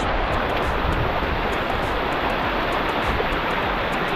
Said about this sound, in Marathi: हा ओढा आहे